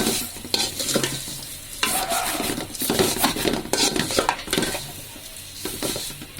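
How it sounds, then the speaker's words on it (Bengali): Vermicelli fries slowly over low heat in ghee or oil in a pan for zarda semai, giving a soft, steady sizzle with occasional stirring and scraping, close by and with no talking. "সেমাইটাকে একটু ভেজে নিব, আস্তে জাল দিয়ে আমি ভেজে নেব যাতে সেমাইটা পুড়ে না যায়।"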